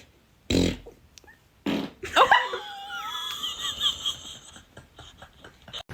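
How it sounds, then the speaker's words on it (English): Two loud, short flatulent bursts from a person, followed by squeaky, wheezy laughter-like sounds trailing on for several seconds nearby. "I got a fart."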